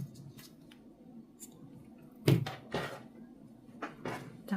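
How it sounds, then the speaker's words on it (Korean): Scissors cut crochet yarn at a quiet work table, a couple of close, sharp snips in the middle followed by faint handling clicks and rustles, with no talk. "4배만큼 잡아서 잘라줍니다"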